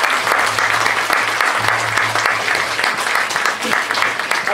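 A show audience gives Dominique Bétrémieux a loud, sustained round of applause, dense clapping from many hands throughout, with a low hum running underneath.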